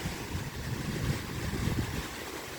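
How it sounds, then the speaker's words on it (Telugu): Water from a barrage pours and flows away below it, a steady broad rushing wash with low rumble and some wind buffeting, close and continuous throughout. "సో వాటర్ అలా పడి వెళ్ళిపోతున్నాయి"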